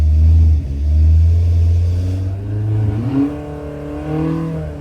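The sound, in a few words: engine revving under load on dyno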